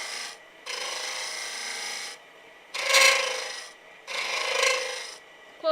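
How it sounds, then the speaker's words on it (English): A spindle gouge cuts wood spinning on a lathe while shaping a toadstool house, delivering bursts of scraping, rasping shaves in several separate passes with short pauses between them, close and fairly loud. "So I'm going to just go back to the spindle gouge"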